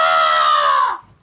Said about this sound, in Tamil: யானை புளிற சத்தம் கேக்குது பாரு